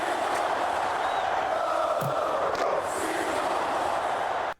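Crowd noise from the PS2 football game Madden, a steady broad roar of chanting and cheering fans that holds loud and even, then cuts off abruptly at the end.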